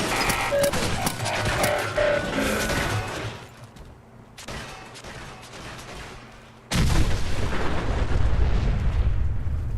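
A nuclear explosion in the video game Fallout sets off a loud roaring blast with rumbling, crackling bursts that fade, then a second powerful surge of roar near the end.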